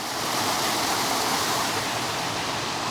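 A waterfall pours in a dense, even roar of rushing water, loud and constant from start to finish with no other sounds.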